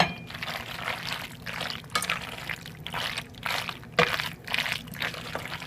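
Thick vegan mac and cheese sauce poured and ladled, giving a close, continuous wet sloshing and glopping with repeated pulses, fairly loud and without any voices.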